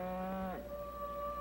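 Cattle low in a single sustained moo, its pitch sliding down partway through and then holding steady, heard clearly at moderate distance in an outdoor rural scene from a 1964 television episode.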